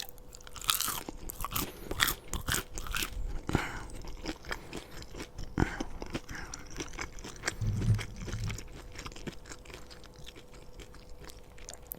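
Loud, close crunching and chewing of crispy McDonald's chicken nuggets with hard, crunchy edges, repeated bites with crackly textures and no talking.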